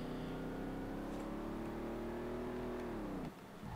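A car accelerating in first gear in Street Legal Racing Redline, its engine holding a loud, steady high-revving drone that climbs slowly, then drops off sharply near the end as the throttle is released.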